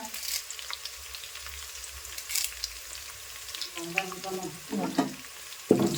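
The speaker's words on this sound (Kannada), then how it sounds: "ಬೆಳ್ಳುಳ್ಳಿ ಚಂದ ಫ್ರೈ ಆಗೋದು. ಸ್ವಲ್ಪ ಬೆಳ್ಳುಳ್ಳಿ ಗೋಲ್ಡನ್ ಕಲರ್ ಫ್ರೈ ಆಗೋದು." Garlic fries toward golden in a large pot for a big batch of saaru: a moderate, crackling sizzle with intermittent stirring clatter and scrapes, and a few faint background sounds.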